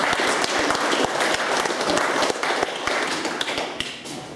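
Audience clapping at a nationalist political meeting, a steady dense round of applause filling the room with a few sharper individual claps standing out, continuous and fairly loud throughout.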